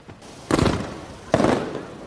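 Fireworks at a beach at night crackle in two loud, fizzing bursts about a second apart, each swelling suddenly and fading into sparkling crackle.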